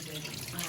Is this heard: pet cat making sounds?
no